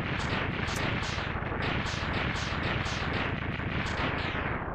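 Explosions in the Mega Man X3 video game: a rapid, even train of crackling bursts, several per second, repeating steadily at a constant loud level with no pauses.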